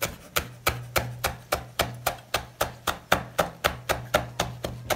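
Knife chopping ornamental chili peppers on a cutting board while making a beef tongue dish, about fifteen sharp, evenly spaced chops in steady rhythm, close and clear with no talking.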